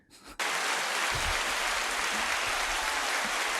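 Two podcast hosts clapping into their studio microphones, a sudden loud burst of dense, close applause that starts abruptly and continues evenly without pause.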